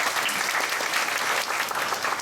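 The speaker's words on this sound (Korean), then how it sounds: "박수 한번 부탁드리겠습니다." Theater audience at a musical special-day event clapping together, a dense, steady burst of applause throughout the short moment.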